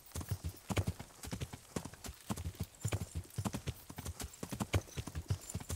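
Horse hooves clip-clop in a steady, brisk rhythm in the medieval video game Kingdom Come: Deliverance, the hoofbeats close and distinct, and no talk is heard.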